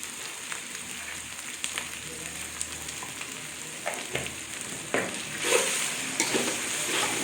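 Spice paste with turmeric sautéing in a pan for a country chicken curry, a steady close sizzle with occasional scraping stirs that grow slightly louder toward the end, no voices.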